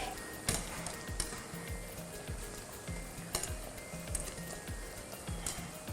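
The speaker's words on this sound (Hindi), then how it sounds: "दूसरा बैच हमारा फ्राई हो रहा है" Second batch of pakoras frying in hot oil for karhi pakora, a steady close sizzle with repeated low thumps and occasional light clinks of a utensil against the pan.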